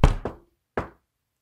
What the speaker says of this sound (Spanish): Tocó la puerta suavemente.